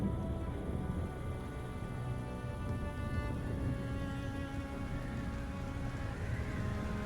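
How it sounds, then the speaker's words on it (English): Steady, dense thunderstorm rain falls on surfaces in the survival game Stranded: Alien Dawn, a continuous even hiss with no voices. "Yo, thunderstorm."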